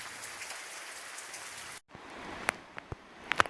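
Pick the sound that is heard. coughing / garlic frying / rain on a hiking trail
rain on a hiking trail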